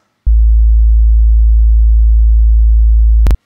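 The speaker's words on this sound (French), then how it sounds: "Un son à 55 Hz," A pure 55 Hz sine tone, loud and steady, switching on abruptly and holding for about three seconds before cutting off with a small click.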